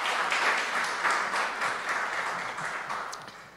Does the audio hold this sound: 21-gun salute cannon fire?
no